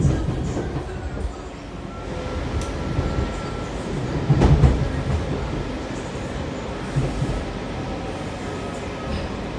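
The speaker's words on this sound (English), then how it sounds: "This is a blue line train to Franconia-Springfield." A Washington DC Metro Blue Line train rumbles along the rails toward Franconia-Springfield with a steady low roar, a brief louder clatter midway, and faint clicking of wheels over track joints.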